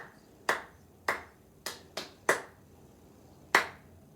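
Hands clapping a rhythm from a violin piece in F major, six sharp close claps in an uneven pattern, with a longer gap before the last one, each clap ringing briefly in a quiet room.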